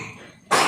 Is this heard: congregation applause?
no